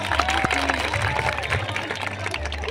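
Scattered applause from a crowd welcoming visiting students at a Maharashtra Police celebration and exhibition event, loose clapping with voices talking over it.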